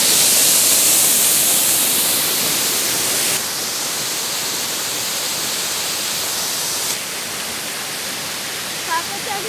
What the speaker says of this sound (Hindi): हर तरफ से पानी बह बह के सड़क पे आ रहा है और इतनी स्पीड में आ रहा है कि इतना ज़्यादा उसमें शोर है।